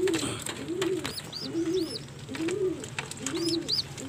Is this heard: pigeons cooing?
yes